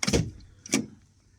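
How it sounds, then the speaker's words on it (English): The passenger door of a 2016 Fiat Ducato 130 Multijet Professional van opens with a sharp latch clack followed moments later by a second, softer clunk, close by and quiet in between. "Open the passenger door,"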